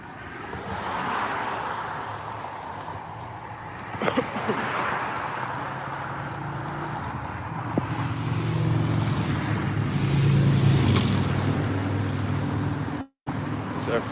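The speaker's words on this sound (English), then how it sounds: "These are friends on the Harleys." Harley-Davidson motorcycles rumble past outdoors during a march, a steady low engine drone rising and falling at moderate distance amid road noise, with people talking nearby.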